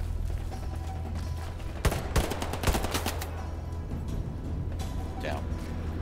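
Gunfire in the Hell Let Loose video game, with a cluster of sharp shots and a short burst near the middle over a steady low rumble of battle ambience.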